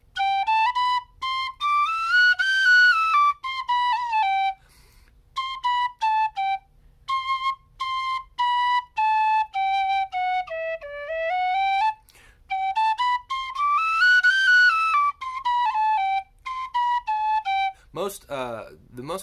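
Soprano tin whistle playing melodic runs that climb and fall across octave transitions, clear and close with short gaps between phrases, ending in a quick warbling trill.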